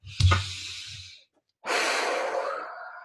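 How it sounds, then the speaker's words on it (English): A deep breath during a calming exercise: a loud, close inhale with a slight snort at the start, a short pause, then a long audible exhale trailing off. "let's just take another deep breath"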